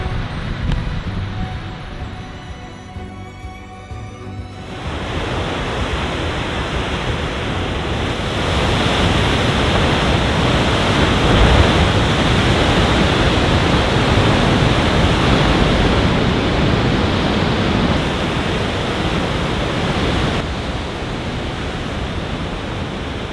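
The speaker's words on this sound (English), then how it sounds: "I can honestly say that I have never been to a beach like this." Continuous broadband roar of surf breaking on a Portuguese beach, loud and steady for over twenty seconds, swelling slightly in the middle with no voices.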